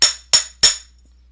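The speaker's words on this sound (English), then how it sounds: "When you're hammering, try to hammer evenly." Metal being hammered while shaping earrings: three bright, ringing metallic strikes at an even, steady pace, each chiming briefly before fading, close and loud with no talking.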